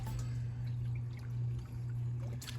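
A homemade pool vacuum sucks dirt off the bottom of a swimming pool, making a steady, low, humming suction drone with a faint watery pour and trickle throughout.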